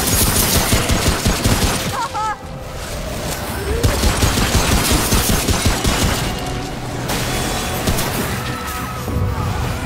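Rapid gunfire in the video game Remnant: From the Ashes, dense bursts and overlapping shots that keep going almost without a break, loud and close, with the game's impacts and effects mixed in.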